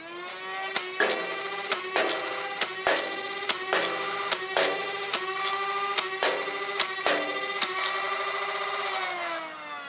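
Deliberate single shots from a Nerf Ultra 2 blaster fitted with a Gavin Fuzzy Elite dart kit: about ten sharp clicks at a steady pace, each followed by a whirring motor tone, close and loud with no talk.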